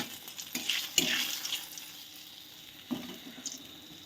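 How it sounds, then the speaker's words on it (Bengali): A bay leaf and a dried red chilli frying in hot oil in a kadai, a soft steady sizzle with a few sharper crackles and spatters scattered through it. "একটা তেজপাতা আর একটা শুকনো লঙ্কা দিয়ে দিলাম"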